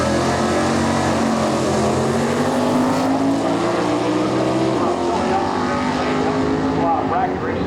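A Chevy Camaro drag car launches down the strip during NHRA divisional bracket racing at a dragway, its engine roaring loud and steady with a rising pitch sweep, dense race noise throughout and a faint announcer voice in the mix.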